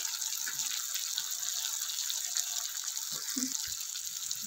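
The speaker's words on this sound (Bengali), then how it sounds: "আমি সামান্য একটু জল দিয়ে দিচ্ছি যাতে মশলাটা পুড়ে না যায়" Water poured into ground spices and softened tomato in a cooking pan for moong dal and papaya curry, a steady close hiss and gush with a few brief low splashes and clinks near the end.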